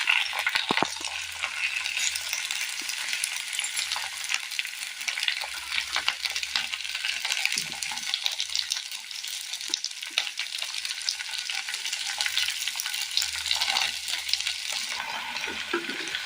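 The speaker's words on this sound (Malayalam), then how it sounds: "ഉള്ളി ഒന്ന് വാടി വന്നിട്ടുണ്ട്. ഈ സമയം നമുക്ക് തക്കാളി കൂടി ഇട്ട് കൊടുക്കാം." Onion and tomato sauté in a pan for a Kerala curry, giving a steady, close, continuous sizzle throughout with faint low rumbles underneath and no talking.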